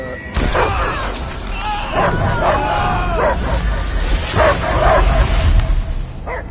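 A dog barks and yips repeatedly in the Guardians of the Galaxy video game. The barks come in short bursts amid rumbling effects and background game sound, with some speech mixed in.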